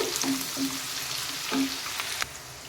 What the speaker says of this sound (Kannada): ಸ್ಲೋ ಉರಿಯಲ್ಲಿ ಇದನ್ನು ನಾವು ಫ್ರೈ ಮಾಡ್ಕೋಬೇಕಾಗತ್ತೆ